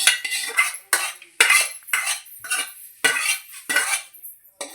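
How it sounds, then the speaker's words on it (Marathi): A metal spoon stirs a thick semolina mixture in a pot, producing loud, close, repeated scraping and clinking strokes in an uneven rhythm, with no voices. "इथं ढवळतच राहायचं, म्हणजे त्याचे गुठले होतील."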